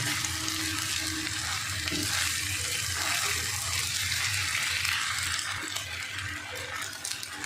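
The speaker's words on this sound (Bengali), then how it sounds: "আমি 2 মিনিট এই মশলার সঙ্গে পাস্তা আলু সব রান্না করে নেব" Pasta and potatoes fry with a spice mix in a pan, giving a steady, close, continuous sizzle with faint stirring scrapes throughout, no voices.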